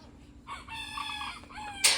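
Roosters crow nearby on a homestead, one long drawn-out cock-a-doodle-doo with a sharper call starting at the end, over quiet farmyard background.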